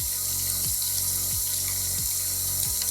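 Tap water runs steadily into a sink while cleaning CPAP machine parts, a continuous broadband rush with a low pump-like pulse recurring roughly every 0.7 seconds, close and fairly loud with no talking.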